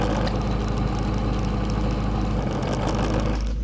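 A BMW E92 M3 engine with a twin-disc clutch idling with a deep, steady rumble and a continuous mechanical hum, loud and close, with a slight shift near the end.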